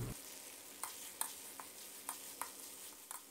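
Thai chili paste being stir-fried in a wok over low heat, a soft steady sizzle broken by sharp scraping clicks of the spatula every half second or so.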